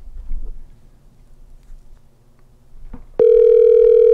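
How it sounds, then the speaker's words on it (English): A telephone tone on a prank call: after quiet handling noise, a loud, steady electronic line tone starts abruptly about three seconds in and holds to the end. "Figures a Jake wouldn't answer the phone."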